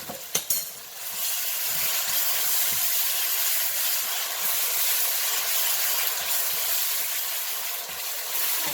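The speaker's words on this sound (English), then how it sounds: "Let this simmer for about 2-3 minutes" Spicy Thai eggplant and pepper sauce simmering and sizzling in a pan, a steady loud hiss with faint bubbling that runs on without pause, close by.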